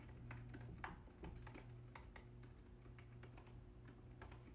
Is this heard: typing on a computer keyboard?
yes